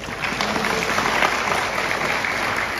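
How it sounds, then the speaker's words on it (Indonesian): An audience at a Nahdlatul Ulama centenary gathering claps steadily, a dense, loud, sustained round of applause with no voices over it. "Yang pertama Muslimat NU, kita beri aplaus"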